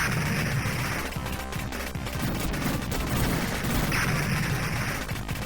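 Continuous rapid gunfire from the Raiden III shoot-'em-up arcade game, a dense crackling barrage with bursts and small explosions running without pause and no talk.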